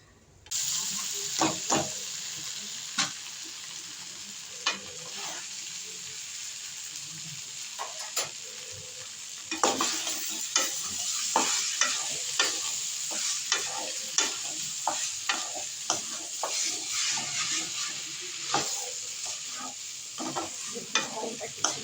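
Sago (sabu) cooking in a pan while a spoon stirs it, giving a steady sizzle with frequent scraping clicks and taps spread throughout, close and continuous.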